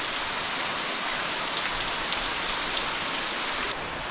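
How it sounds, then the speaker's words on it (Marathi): Steady downpour of unseasonal rain running off the eaves of a Konkan village house, a thick continuous rush with close dripping taps throughout, dipping slightly in level near the end. "आणि इकडे पाऊसच पाऊस आहे, पावल्या गळत आहेत."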